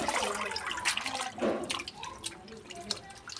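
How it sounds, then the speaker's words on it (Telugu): Gongura leaves are swished and rinsed in a bowl of water, giving soft splashes and drips close by under faint background sound. "రెండు మూడు సార్లు ఇలాగా వాష్ చేసుకొని"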